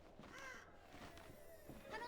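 Crows caw in the Harry Potter PC video game, with a few short, harsh calls over a steady, moderately loud game soundscape.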